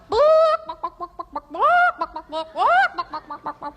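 A person imitates a chicken, with drawn-out squawks between rapid, choppy clucking sounds in an uneven rhythm.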